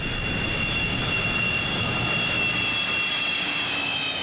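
Antonov An-124-100 Ruslan heavy transport aircraft after repair, its engines producing a loud, steady jet roar with a high whine, continuous and close with no talking.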